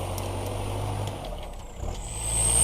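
A Kubota L4708SP tractor engine idles with a low, steady rumble, then surges louder near the end as it revs up, with a brief hiss of air in between.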